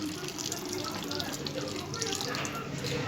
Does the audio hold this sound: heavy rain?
no